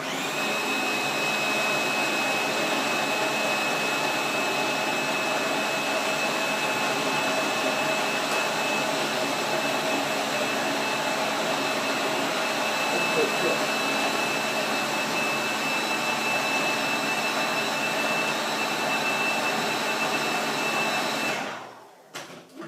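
A food processor whirs steadily and loudly without a break while mixing a chocolate cheesecake base, then cuts off abruptly near the end.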